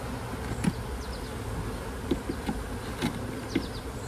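Honey bees buzz over open hive frames during an early-season inspection, a steady close drone of many wings with a few louder individual bees passing near at intervals.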